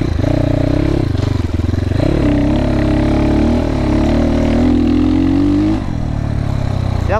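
A GPX FSE300R motorcycle pulls away from third gear, its loud, close engine rising in pitch over about six seconds with steady rough clatter, then easing off near the end; no one speaks.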